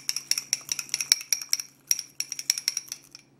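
Metal utensil clinking and scraping against a bowl while chickpea flour and herbs are stirred together, a rapid irregular series of sharp clinks, close and loud, with brief pauses.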